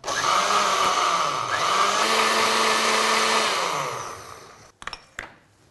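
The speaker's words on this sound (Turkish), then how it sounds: "Blender'dan geçirip bütün katı taneleri olabildiğince ufaltacağım." A blender runs steadily with a loud, whirring roar for about four seconds while blending tomato vermicelli soup, winds down, then a few clinks follow.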